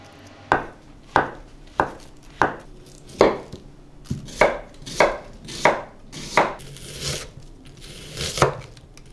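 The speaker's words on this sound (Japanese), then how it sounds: "匂いのないものから切っていって、最後ネギとか、一番最後ニンニクがある時はニンニクが一番最後で" A knife chops vegetables on a cutting board in a home kitchen, about a dozen firm, evenly spaced chops ringing out close and clear, with quiet gaps between strokes.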